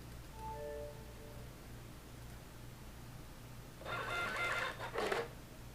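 A Citizen CT-S851 thermal receipt printer runs a short burst of printing, feeding out a receipt with a barcode. The buzzing whir starts after a quiet stretch and lasts about a second and a half, close and fairly clear.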